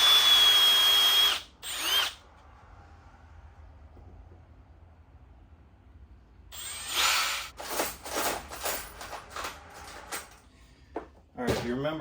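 A power drill whirs loudly as it bores a larger hole in wood in short bursts, first one long run, then a cluster of rapid stop-start pulses after a quiet pause.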